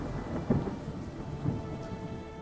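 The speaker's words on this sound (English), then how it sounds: "Lightning strike." Thunderstorm with a lightning strike in the city-builder game New Cycle, heard as steady rain with two low thunder rumbles, one early and one later, all fairly faint and with no talk.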